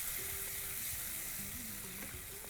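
Onion and tomato fry over a high flame in a pan, giving a steady, close sizzle throughout with faint stirring sounds and no talking.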